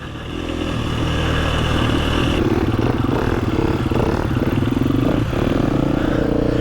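A motorcycle ridden at basic rider training, its engine droning loud and steady throughout with rough, rising revs and a clattering, scraping texture from the bike over the ground.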